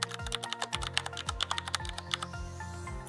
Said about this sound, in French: je tape goqr.me.